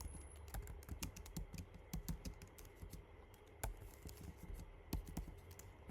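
Fast, uneven keyboard typing runs throughout as code is entered in a Python programming lecture, with close, crisp key clicks and a few sharper strokes standing out, and no voice.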